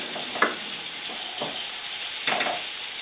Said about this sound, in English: our onions are starting to sizzle up a little bit.